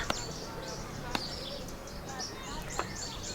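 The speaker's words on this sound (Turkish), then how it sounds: "Çok güzel bu kuş sesleri." Small birds chirp and tweet in short, bright calls in a home back garden, scattered and fairly faint over a steady outdoor background hiss.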